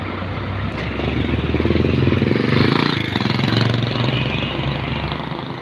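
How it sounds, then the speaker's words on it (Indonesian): A large bus engine runs steadily with a low rumbling idle that swells slightly in the middle, heard up close without talk. "Di sini kita dulu dengar suara mesinnya Gamara."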